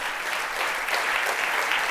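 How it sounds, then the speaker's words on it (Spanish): A church congregation applauds during a sermon, a broad, steady wash of clapping from many hands that fills the room evenly without pause. "Démosle un aplauso al Señor."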